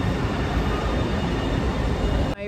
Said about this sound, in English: now I'm about to go on a train.